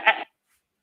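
A person imitates a goat, giving one short, nasal, wavering bleat close to the microphone, followed by silence.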